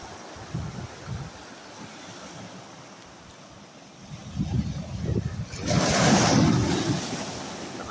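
Ocean waves wash in steadily with wind buffeting the microphone, swelling into a louder, hissing surge of surf near the end.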